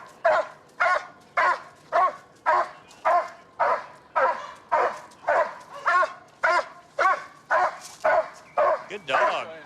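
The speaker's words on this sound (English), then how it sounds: "You'll be bit by a dog." A police dog barks in a rapid, regular series of about twenty sharp, loud barks close by, each one evenly spaced in a steady rhythm.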